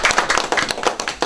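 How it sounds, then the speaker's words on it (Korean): Seminar audience at a Reformation theology lecture clapping to welcome the guest speaker, a brief close burst of individual hand claps in an uneven rhythm. "우리 박수로 환영하겠습니다."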